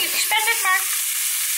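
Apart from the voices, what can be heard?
chicken sausages frying in a pan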